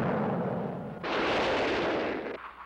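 A cartoon rocket ship blasts off with a sudden roaring whoosh that swells loudly and holds for over a second before cutting away, preceded by a lower rumble and without any voices.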